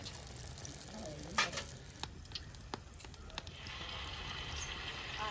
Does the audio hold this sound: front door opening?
no